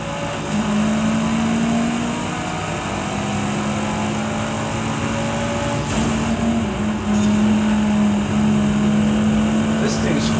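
BMW xDrive50 driving in the Forza Horizon 5 racing game, a steady loud engine drone with sustained tonal hum and slight shifts in pitch, continuous throughout.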